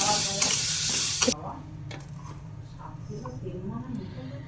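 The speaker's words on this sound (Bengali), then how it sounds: "প্রথমে দিয়ে দেবো কড়াইতে বাটার বেশ অনেকটা পরিমাণে" A generous amount of butter hits a hot kadai for pav bhaji, giving a loud, bright sizzle for just over a second before it cuts to a much quieter kitchen background with talking.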